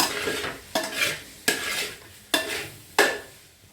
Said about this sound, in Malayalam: ഇളക്കണം, നല്ല ഇളക്കണം.